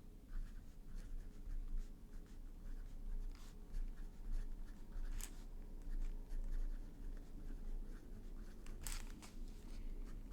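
Sailor Pro Gear Slim fountain pen with a broad nib scratches softly across paper, faint close scribbling strokes with small ticks under a quiet room hum.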